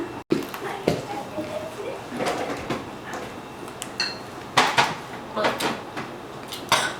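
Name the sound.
mixing tuna salad with hot dog relish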